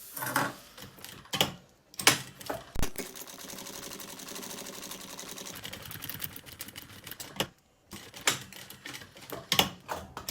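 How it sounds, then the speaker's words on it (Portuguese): A sewing machine runs a topstitch along the edge of a kids' lunch bag flap, backstitching at the ends: bursts of rapid mechanical stitching, a steady run in the middle, brief pauses between, close and clear. "vou fazer agora uma costura só à beirinha, fazendo retrocesso no início e no fim"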